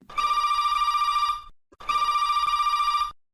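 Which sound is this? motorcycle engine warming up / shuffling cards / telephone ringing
telephone ringing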